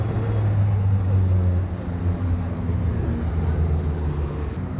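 A small jeep drives along a race track at a hot-lap event, its low engine drone loud and steady throughout and easing slightly as it goes by, with no speech.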